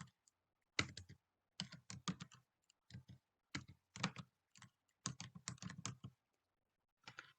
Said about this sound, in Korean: 카카오톡이라고 입력합니다.